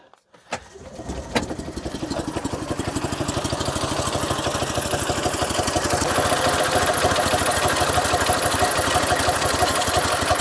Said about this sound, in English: So let's just start the engine again.